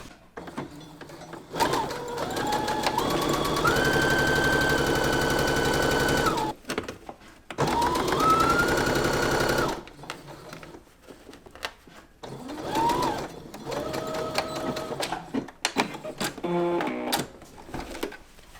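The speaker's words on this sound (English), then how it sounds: "we're gonna understitch as far as we can along this top edge, and that's gonna help it from peeking out" A sewing machine understitches a facing along the top edge of a pair of pants. Loud, close motor whirs come in several bursts, with short starts and stops near the end.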